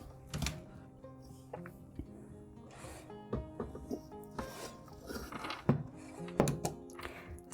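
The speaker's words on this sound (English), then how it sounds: "Staple one side." Staples being driven to stretch a cross stitch canvas, a series of sharp thunks and clicks at irregular intervals, close and fairly quiet, with light handling rubs between them.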